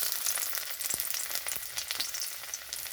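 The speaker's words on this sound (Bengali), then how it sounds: "এখানে কড়াইতে তেলটা গরম হয়ে গেছে, তো এখানে আমি এই মশলাগুলো সব ভেজে নেব" Ginger and other spices sizzle in hot mustard oil in a wok for a new-potato dum curry, a steady close crackle and hiss with sharp spits and pops and no talking.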